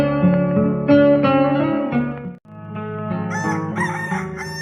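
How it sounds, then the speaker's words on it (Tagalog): A rooster crows loudly and close by in a long, drawn-out cock-a-doodle-doo, the call breaking briefly before rising into a higher, strained final stretch, alone with no talking. "asino aya ti akin manok iti dahita. Uray la matitilan ti lapayag ko iti panagtaraok na."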